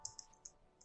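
Keys tapped on a computer keyboard while entering a Linux touch command, a few sharp close clicks spaced unevenly across a short burst.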